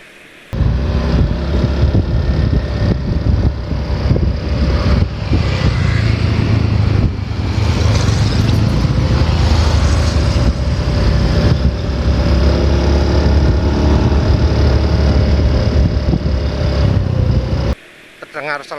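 Car engine running slightly rough, a steady low idle drone with a faint rattle, held for most of the stretch with a brief drop near the end.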